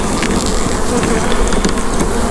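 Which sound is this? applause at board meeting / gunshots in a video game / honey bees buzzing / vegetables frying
honey bees buzzing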